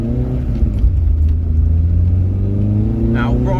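A VW Mk1 Golf GTI with a Brian Ricketts Motorsport BRM152 engine runs close by, its engine note rising and falling in a low rumbling rev under a voice.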